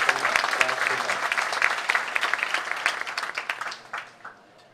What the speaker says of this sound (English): let's give him a nice round of applause for the opening match